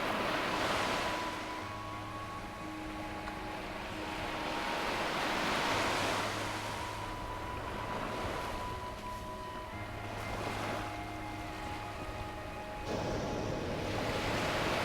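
Cold coastal wind blowing along a winter coastal path, with waves washing in as broad, swelling surges beneath a continuous wind rumble on the microphone.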